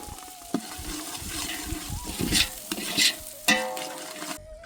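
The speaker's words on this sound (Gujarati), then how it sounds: "આપણી ગ્રેવી કમ્પ્લીટ થઈ છે તો હવે નાખશું આપણે આ લીલા વટાણા" Green peas are tipped into a sizzling gravy and stirred, a close frying hiss broken by several sharp scrapes and clatters of the spoon against the pan, with no talk.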